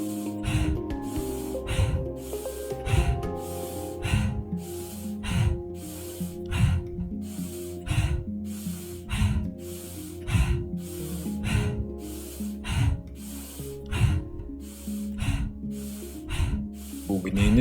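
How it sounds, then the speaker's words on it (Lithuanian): Rapid, forceful nasal breaths from a fire-breathing exercise in a guided breathing session, sharp rhythmic puffs repeating steadily about once a second, close and loud over soft background music. "Ugninis kvėpavimas."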